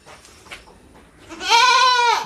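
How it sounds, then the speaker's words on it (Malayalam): Malabari breed goats on a goat farm in Kottakkal, Malappuram, with one loud, close, drawn-out bleat rising near the end after quieter background sounds. "ഒക്കെ മലബാർ ഇനത്തിൽപ്പെട്ട ആടുകളാട്ടോ ഇവിടെ ഉള്ളത്."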